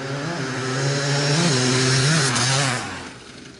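A 1997 KTM 360SX two-stroke dirt bike engine, freshly serviced and running on VP110 race fuel mixed with pump gas, idles and blips close by, its loud buzzing harmonics rising and falling through a few quick revs before settling back down.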